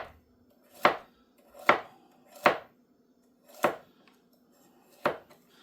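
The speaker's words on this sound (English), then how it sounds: "The little stalk that we've got left, we can just cut this into very thin rounds" Knife chopping a small vegetable stalk into very thin rounds on a cutting board, six crisp separate strikes spaced about a second apart, close and alone without talk.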